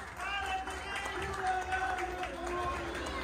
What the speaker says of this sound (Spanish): Que sigan las palmas, por favor, se lo merecen.